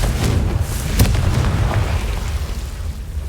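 Confringo explosion spell cast in Hogwarts Legacy, a deep rumbling burst with a sharp crack near the start, then a sustained low roar fading off, loud and close with no talking.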